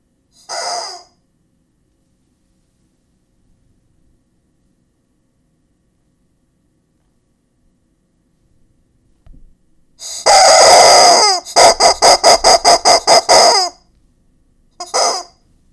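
A chicken alert sound plays loudly after a long silence on a game stream: a short cluck, then a burst of rooster crowing followed by a rapid string of clucks and a final squawk.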